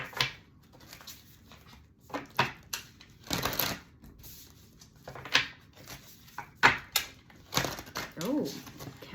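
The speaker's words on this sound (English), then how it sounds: "Oh, can't shuffle cards today for some reason." Oracle cards being shuffled by hand, a series of crisp riffling and flicking bursts at irregular intervals, close and moderately loud, with someone speaking softly in between.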